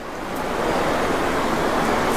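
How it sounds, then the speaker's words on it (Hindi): Fast, rushing water pours steadily through a cave temple in Uttarakhand, a loud, dense broadband roar that swells in over the first half second and then holds constant with no voices. "ओ भाई, पानी बहुत तेज चल रहा है यार।"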